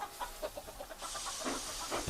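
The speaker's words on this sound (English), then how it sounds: "And Billy steamed off" Toy Tomy Trackmaster steam engine hisses as it pulls away, a steady broadband hiss rising after a second of softer chuffing and clucking sounds, moderately faint and close.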